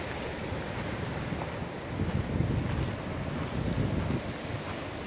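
Sea waves wash continuously onto a public beach at Ras El Bar, Egypt, with steady wind buffeting the microphone and a few slightly louder surges of surf.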